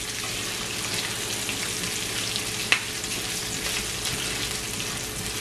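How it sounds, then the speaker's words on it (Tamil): Shallots and curry leaves fry in hot oil with a dense, even sizzle heard up close, broken once by a single sharp tap near the middle and otherwise steady without talk. "இதை நல்லா மிக்ஸ் பண்ணி நல்லா கோல்டன் ப்ரௌனாக வரையும் இதை பொரிச்செடுப்போம்."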